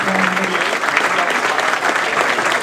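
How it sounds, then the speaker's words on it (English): Sustained round of audience applause at a congressional candidates forum, dense clapping from a crowd filling the whole stretch evenly and loudly. "Big round of applause."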